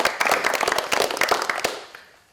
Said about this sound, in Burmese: ကဲလက်ခုပ်တီးပြီးချီးမွမ်းပါဦး